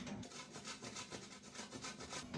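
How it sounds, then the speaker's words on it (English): Cheese rubbed against a grater in a small kitchen, a series of quiet rasping scrapes in an uneven back-and-forth rhythm, close and soft, with no talking. "Now we're going to grate some cheese."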